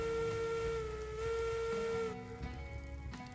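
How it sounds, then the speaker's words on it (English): Steam locomotive whistle in the railroad game Railroads Online, a loud sustained tonal blast lasting about two seconds before dropping into a hissing, echoing tail. "Whistle."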